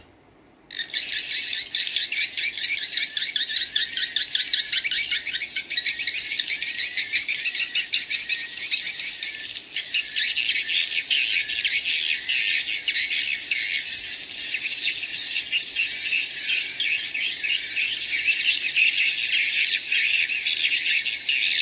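Swiftlets calling inside a bird house, a dense continuous chorus of rapid high chirps and clicks starting abruptly and holding loud and steady for about twenty seconds.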